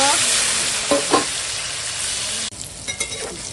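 Loud, steady sizzling of pointed gourd seasoned with salt, turmeric and chili frying in hot oil with a few stirring scrapes, then the hiss drops quieter partway through.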